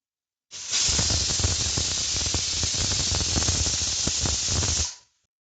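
Cumin, green chillies, garlic, pepper and tomatoes for rasam whirring in an electric mixer grinder, a steady loud hissing roar that runs for about four seconds, then cuts off.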